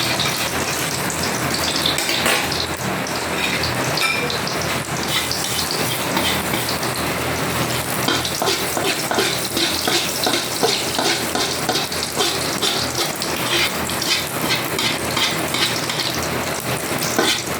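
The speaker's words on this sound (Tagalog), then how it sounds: "Ang lakas ng ulan." Heavy rain pours down in a dense, unbroken hiss that stays loud and even throughout, with no voices.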